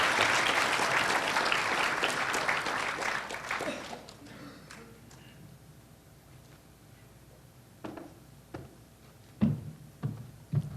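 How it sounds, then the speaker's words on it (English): A hall audience at a university ethics event gives a loud burst of applause that fades over a few seconds, followed by quiet room noise and a few scattered sharp knocks and thumps. "a round of applause for Target."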